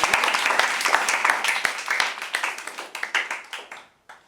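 Students and audience at an intraschool debate at HighScope School in Ojodu, Lagos clap for a speaker, crisp individual claps at first that thin out and fade to a few scattered hands before stopping.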